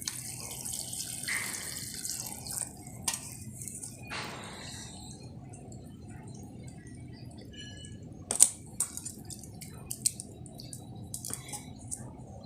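Cut bitter gourd (karela) pieces are rinsed in water in a bowl, giving soft, close sloshing and splashing with small knocks and clicks, fairly quiet and without talking.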